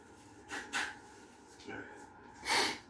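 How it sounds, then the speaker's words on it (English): Someone blows their nose in a few short, nasal bursts spaced across a few seconds, the last one strongest, heard close and fairly quiet with no talk. "Blow my nose."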